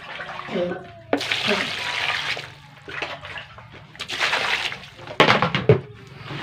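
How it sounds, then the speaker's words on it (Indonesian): Boiled grass jelly leaves being washed by hand in cold water, with bursts of splashing and sloshing in a basin that come and go in several rounds, a voice talking over them. "Kita cuci pakai air dingin."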